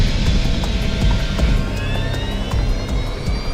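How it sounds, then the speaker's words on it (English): Airplane engines roar loudly through a takeoff roll, a dense, steady rush with a rising whine layered on top, close and continuous with no voices. "Just another routine takeoff."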